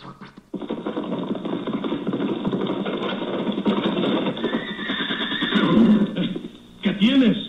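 A horse neighs in a Spanish-language radio drama, with whinnies rising near the end over dense, continuous voices and hoofbeat-like effects.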